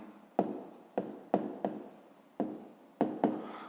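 A pen writes out a math solution on paper in short, close scratchy strokes, about seven distinct bursts with brief pauses between them, with no talk.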